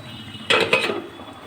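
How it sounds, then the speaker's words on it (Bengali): A lid set over fish cooking in a pan, a quick pair of metallic clinks and rattles close by, fading out within a second. "আমি মাছটা একটু ঢেকে দেবো"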